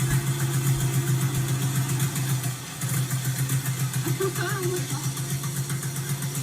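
A 1916 Excelsior motorcycle engine runs steadily, giving a loud, close, pulsing mechanical drone with a brief dip midway, while a voice talks over it.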